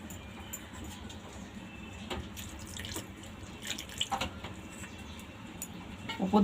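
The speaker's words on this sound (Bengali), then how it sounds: "ছানাটাকে এবার আমি ঠান্ডা জল দিয়ে ভালো করে একটু ধুয়ে নেব" Cold tap water runs steadily over freshly made chhana (cottage cheese) being rinsed in a kitchen sink, with a few soft clinks and splashes near the close.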